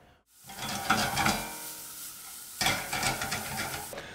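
Chopped ginger and green chillies sauté in a pan with a steady sizzle, broken by two bursts of stirring and scraping at the start and again near the middle, close and fairly loud with no voices.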